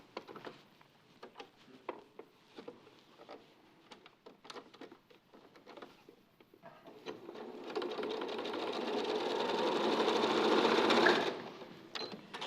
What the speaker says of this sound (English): So I'll baste that one in quickly.